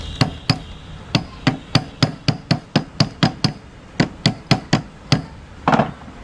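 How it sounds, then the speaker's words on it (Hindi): A plastic hammer taps a counter gear into a Maruti Suzuki Ertiga transmission: about seventeen sharp, close knocks in a quick, slightly uneven rhythm, alone. "आप यहाँ पर प्लास्टिक हैमर यूज कर सकते हैं।"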